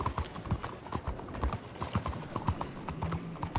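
Quick, regular hoofbeats of an injured horse clip-clopping on hard ground in Red Dead Redemption 2 on PS4 Pro, loud and close, with no talking.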